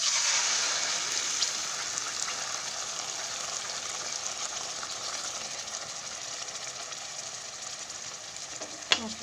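Spice paste of ginger, garlic, onion, tomato, coriander and cumin sizzling steadily in a pan with already-fried onion, a continuous close frying hiss that stays fairly even throughout with a small clink near the end.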